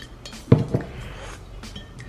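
A massage bar mixture stirred in a bowl, with a couple of sharp utensil knocks and clinks against the bowl over quieter scraping, close by.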